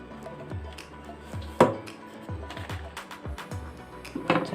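Oats papad dough is pressed in a roti maker, a series of irregular close clacks and thumps from the hinged plates, one notably louder, with faint room noise between.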